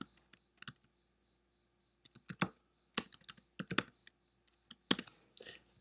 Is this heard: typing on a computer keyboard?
yes